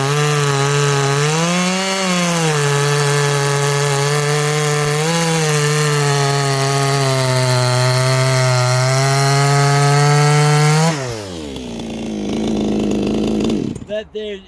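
A 58cc Chinese chainsaw engine revs loud and close, holding a steady buzzing drone with slight rises and dips before dropping off sharply, then spluttering briefly near the end.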